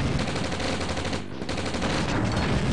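Dense, continuous machine-gun fire from the real-time strategy game Command and Conquer: Red Alert, a loud unbroken rattle of rapid shots with only a brief dip midway.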